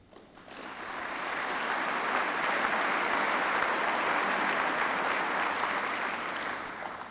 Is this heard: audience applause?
yes